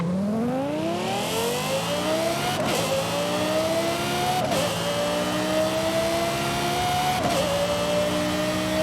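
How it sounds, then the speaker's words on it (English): A high-revving, F1-style car engine in the racing game Forza Horizon 5 screams upward through the gears, with three sharp upshifts breaking the rising whine, loud and close with no talk. "I think everyone agrees that this F1 sounding car is one of the best things to have blessed the modern"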